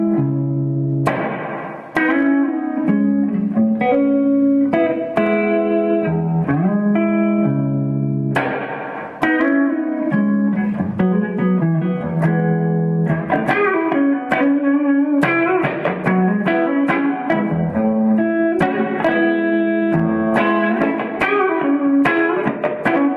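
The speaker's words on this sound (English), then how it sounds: "the spring recreates the classic sounds of spring tags that you'll find in old amps" Electric guitar played through a TC Electronic Hall of Fame reverb pedal on its spring setting: strummed chords and picked notes ring out with a spongy, splashy vintage-amp spring tail, loud and alone with no talking.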